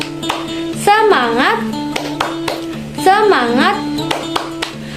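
Children clap their hands in rhythm during a classroom clap-along cheer. A few sharp, spaced claps fall between two short chanted phrases from young voices nearby.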